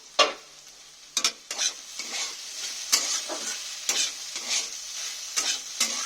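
Okra frying in a pan for a mashed okra dish, with a spoon stirring and scraping it in repeated sharp strokes over a steady, close sizzle, with no voices.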